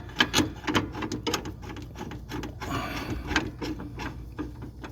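Mechanical clicking and ratcheting as a center bolt is twisted into the steering sector gear of a John Deere D110 lawn tractor, a run of close, irregular metallic ticks and taps.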